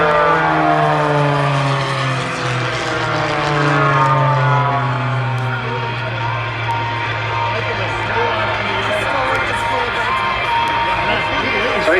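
Propeller aircraft making a fast head-to-head pass at an airshow in Victoria, Australia, a loud, steady engine roar whose pitch slowly falls as the planes sweep past nearby.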